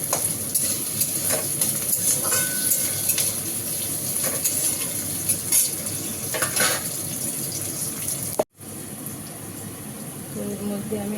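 Food being stirred while frying in oil in a pan: a continuous sizzle with repeated scraping clicks of a spoon, briefly cut to silence near the end, then a faint voice.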